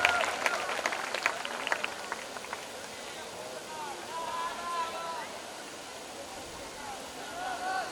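Loud applause from the audience at a school golden jubilee celebration in Bhiwandi, a dense wash of clapping that starts strong and then thins into a steady crowd rustle while someone talks over it.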